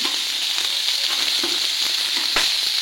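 Whole spices tempering in hot oil in a home kitchen, a steady close sizzle and crackle with a few sharper pops, no voices.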